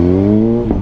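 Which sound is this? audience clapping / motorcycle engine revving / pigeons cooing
motorcycle engine revving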